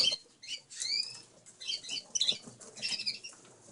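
Red factor and mosaic canaries flutter in an indoor bird room, soft bursts of wing flapping and scuffling mixed with faint high chirps, close by and intermittent.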